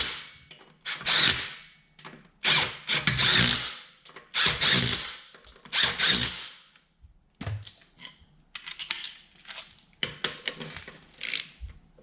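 Harbor Freight power tool fitted with a 3D printed battery pack, running in repeated short bursts of whirring and ratcheting clatter separated by pauses, close and loud with no talking.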